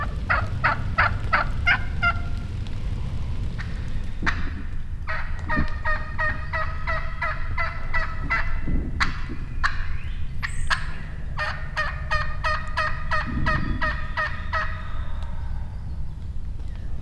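Wild turkey hens give repeated rhythmic yelps in quick series, one bird then another, clear and fairly close over a low outdoor rumble.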